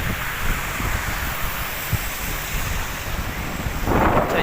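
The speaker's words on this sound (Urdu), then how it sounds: "اب ادھر سے آپ اندازہ لگائیں کتنا پانی جا رہا ہے۔" Heavy floodwater after intense rain in Medina rushes steadily past in a constant loud roar, with wind buffeting the microphone and a surge of noise toward the end.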